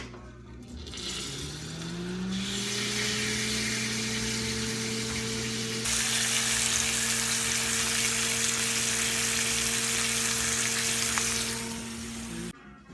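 Steak sears in a hot pan with a loud, steady sizzle that swells after a couple of seconds and holds, while a low, even hum of a kitchen fan runs beneath.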